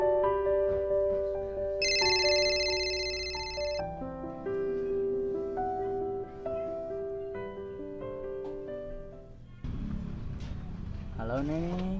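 A telephone plays a bright, melodic ringtone for an incoming call, its tune repeating clearly for about ten seconds before the ringing gives way to a voice.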